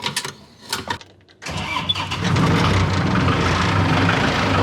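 A farm snowblower engine cranks in a few short bursts, pauses, then catches and settles into a loud, steady idle close by.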